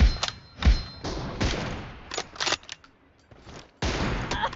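Bursts of gunfire from a mobile shooter video game, rapid automatic volleys and single thuds in uneven clusters, loud and close with brief pauses between.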